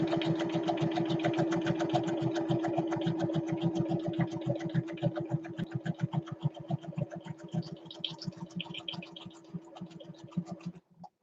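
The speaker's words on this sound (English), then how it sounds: "I'm grabbing my sewing machine. I'm going to put it on a zigzag stitch." A home sewing machine running a zigzag stitch, a steady rapid mechanical whir with fast regular needle pulses, close and continuous, slowing into separate stitches near the end.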